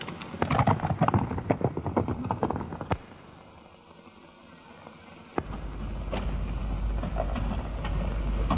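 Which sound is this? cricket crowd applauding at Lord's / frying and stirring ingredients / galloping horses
galloping horses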